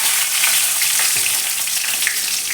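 Bay leaves and dried chillies hit hot oil in a pan, after duck eggs were fried in the same oil. A steady, close, loud sizzling hiss runs throughout with faint crackles, and nobody speaks.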